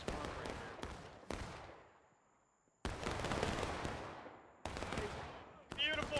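Musket volleys in the War of Rights video game, set in a Civil War graveyard battle: several sharp, loud cracks of gunfire, some single, some ragged and overlapping, each rolling off into a long echoing tail, with brief silent gaps between bursts.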